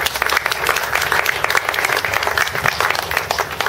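A dense, loud wave of applause from a crowd welcoming a mayor at a campaign stump speech in Louisiana, sustained and even throughout with no break, many hands clapping at once.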